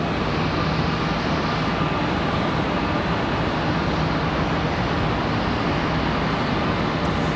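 An American Airlines airliner from Nashville landing on runway 36 left at Charlotte Douglas International, heard as a loud, continuous broadband engine roar that holds steady throughout, with no voices over it.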